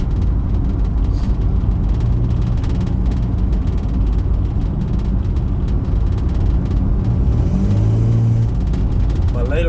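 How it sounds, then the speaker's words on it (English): A Ford XF Falcon driving, with loud, steady engine and road rumble filling the cabin and interior rattles over it throughout. "it's very rattly in this car, so you might not be able to hear shit"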